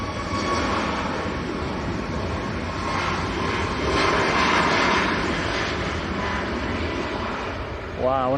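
A Ryanair jet lines up on the runway at Manchester Airport, giving a steady, broad engine roar. It swells slightly midway and sounds fairly distant, with no voices over it.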